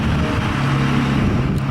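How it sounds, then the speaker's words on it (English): A very loud truck rumbles past on the road, a heavy, dense roar filling the whole moment at close range. "very loud truck going by"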